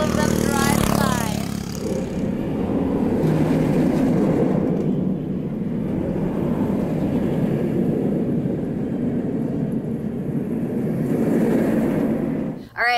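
Race cars roar past on a track, heard from the middle of the course: a loud, sustained engine drone that swells and blends as the cars keep passing, with voices faintly mixed in.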